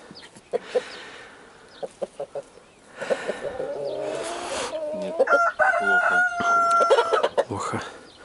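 A gamecock crows at close range during a pre-fight look at several fighting roosters, a long drawn-out call rising over handling noise, knocks and scattered clucks, with brief voices in the background.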